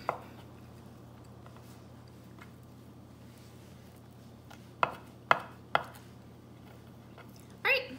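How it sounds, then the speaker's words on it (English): Knife chopping ham on a cutting board, three sharp knocks in quick succession near the middle and another brief knock at the end, over a low steady hum. "I'm going to chunk up the rest of this ham"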